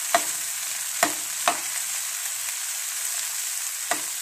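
Sliced ridge gourd (taroi) fries in a pan over a medium flame with a steady sizzle, broken by a few sharp clicks of a spoon stirring against the pan, with no talking.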